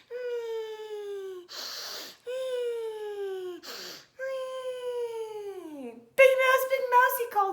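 A voice imitates a mouse snoring: three long, wheezy, pitch-falling snores, each broken by a short noisy snort-like inhale, then a brief higher whimpering sound at the end.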